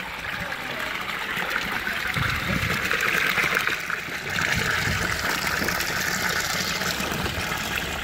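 Hot spring water pours continuously from a public thermal fountain, a steady close gushing and trickling splash that swells slightly midway.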